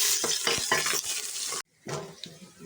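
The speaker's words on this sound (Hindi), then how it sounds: "अब हम प्याज भून लेंगे।" Onions frying in about four spoonfuls of oil in a pan, a steady close hiss and sizzle with stirring clatter, briefly cut off then resuming more softly.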